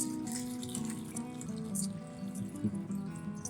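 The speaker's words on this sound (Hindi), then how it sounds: "एक स्ट्रेनर रख के आप उसके ऊपर सारा पानी निकाल लीजिए" Water poured from a pot of boiled macaroni through a strainer, a steady splashing gush over a low hum, moderately quiet and continuous with no talk.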